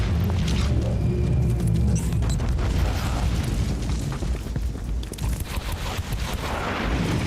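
Mines explode in the video game Warhammer 40K: Inquisitor - Martyr, giving a dense, continuous rumble of booms and bursts that stays loud and heavy throughout, with no talking.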